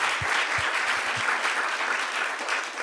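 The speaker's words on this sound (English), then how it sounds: "I think that's worth some applause for both of" Brief, steady applause from the audience at a panel discussion with doctors on longevity and health equity, with a few low thumps near the start.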